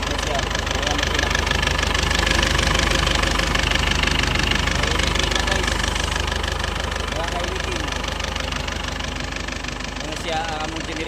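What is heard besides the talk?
newly overhauled diesel generator engine running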